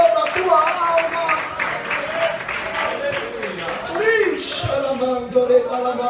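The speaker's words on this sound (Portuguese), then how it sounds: "você pode aplaudir o Senhor" Church congregation applauding the Lord during a Portuguese-language sermon, a steady wash of clapping throughout with voices and singing-like tones mixed in underneath.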